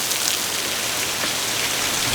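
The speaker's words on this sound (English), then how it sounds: "This rain came out of nowhere" Steady rain falls in a dense, even hiss that covers everything, with no talking.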